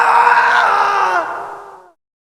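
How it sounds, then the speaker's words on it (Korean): Loud, sustained screaming from inside a gym in the Pokémon Dusk game, a drawn-out cry that holds steady and then trails off and fades within two seconds. "안에서 비명소리가 들려 구출하러 가네요."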